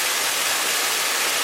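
Alpine waterfall cascade roaring as a steady, dense wash of broadband rushing water, loud and close, with no voices over it.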